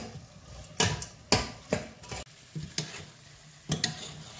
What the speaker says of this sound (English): And I will need to add gizzard and stir it together.